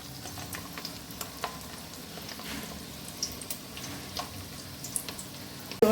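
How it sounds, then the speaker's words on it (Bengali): Fish roe fritters fry in oil, a soft, steady crackling sizzle with scattered small pops heard close but fairly quiet, ending with a brief louder knock. "কটা গরম গরম মাছের ডিমের বড়া ভেজে দিই।"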